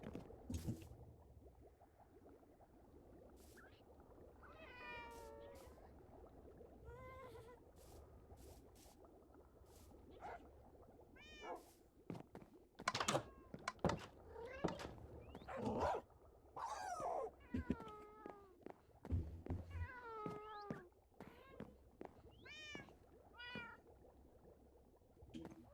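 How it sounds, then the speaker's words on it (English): Minecraft cats or ocelots meowing repeatedly, many short high video-game meows scattered over a quiet background with clicks and soft game noises, growing busier in the second half. "So many meows."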